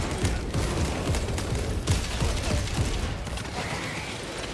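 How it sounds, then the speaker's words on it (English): A shock grenade goes off amid dense gunfire in Space Marine 2, a crackling mechanical barrage of rapid shots and impacts that runs continuously and loudly through the scene. "Deploying shock grenade."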